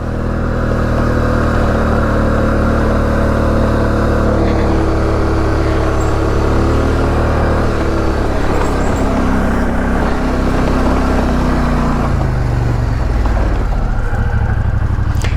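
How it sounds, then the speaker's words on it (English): An off-road vehicle on mud tires slides along a mountain trail, its engine droning loud and steady throughout with shifting revs, close and continuous with no other sounds rising above it. "Letting the mud tires slide around a bit"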